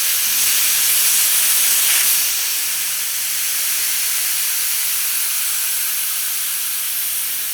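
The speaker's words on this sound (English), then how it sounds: "bleed the rest of the air out of here" Compressed air bleeding out of a DIY CO2 air tank, a loud, close, continuous hiss that surges briefly near the start, then settles into a steady rush of escaping air.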